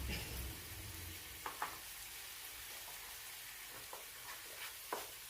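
Steady bubbling sizzle of an eggplant curry boiling in a pan, close by, with a few soft clicks and stirring taps scattered through it; no voices.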